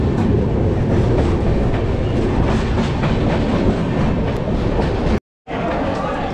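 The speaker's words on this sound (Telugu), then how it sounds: "నేను వచ్చిన ట్రైన్ ఇది" The Gorakhpur–Yesvantpur express train rumbles loudly and steadily along the tracks at Kazipet Junction, India, a dense continuous roar with a brief dropout near the end.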